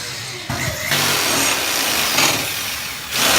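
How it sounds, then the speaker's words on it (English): A power drill whines steadily, revving up and down in long stretches, close and loud, with brief pauses between bursts, drilling hose holes in a bus body during a heater relocation. "we're just drilling the holes for the hoses right now"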